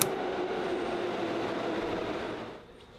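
A subway train pulling into a station, a loud broadband rumble and rush with a faint squeal, steady for about two and a half seconds before dropping away near the end; no talking.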